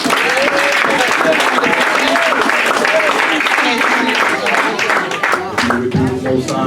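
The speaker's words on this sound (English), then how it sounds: "Give y'all a round of applause." Congregation applause at an afternoon service, loud sustained clapping mixed with cheering voices that carries for several seconds before thinning out as talk takes over near the end.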